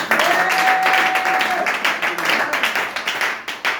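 A church congregation applauds together in acclamation to God, a dense, steady wash of many hands clapping close by, with a brief sustained tone early on and faint voices mixed in.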